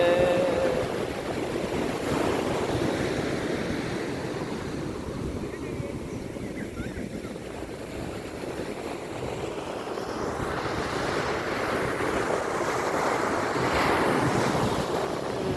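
Sea waves at Kovalam beach roar steadily and continuously, with heavy wind buffeting the microphone and faint voices underneath.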